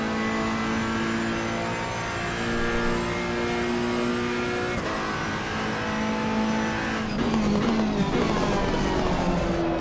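A race car in Assetto Corsa Competizione roars close and loud with a steady, harmonic engine tone that climbs and shifts near the end, with tire noise underneath and nobody talking.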